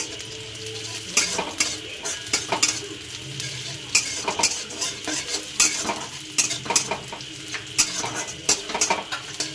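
Peanuts frying in a pan, stirred briskly, with a busy close sizzle broken by frequent sharp rattling and scraping clicks as the nuts and utensil knock against the pan, and no voices.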